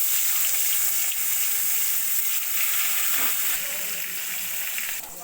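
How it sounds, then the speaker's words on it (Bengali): Pieces of katla fish fry in hot oil in a wok, giving a loud, continuous sizzle that holds steady and eases slightly near the end. "কড়াইতে তেল দিয়ে মাছগুলো আমি প্রথমে ভেজে নেব ভালো করে।"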